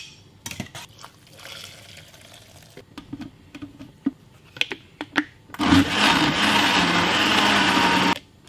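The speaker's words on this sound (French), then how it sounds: "maintenant on va tout mixer et filtrer" A blender purees homemade fish soup: a few clacks and short pulses first, then a loud, sustained whir for several seconds before it cuts off.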